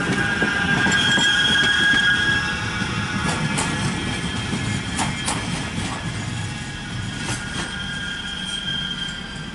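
A train pulls into platform 1 at Altrincham station, loud and close, with rolling rumble, clicking wheels over rail joints and high squealing from the wheels as it slows.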